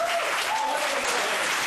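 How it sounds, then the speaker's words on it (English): An audience applauds at an esports event hosted by an MC, with dense, steady clapping from a crowd that stays loud and even for the whole short burst. "applause for that now."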